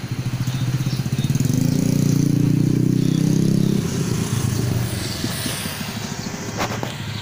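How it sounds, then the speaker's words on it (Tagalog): A motorcycle engine rumbles loudly up close, swelling and then dropping away, while traffic hums on afterward. "Meron ng mga sasakyan, pero I think mga private lang yan at saka motor."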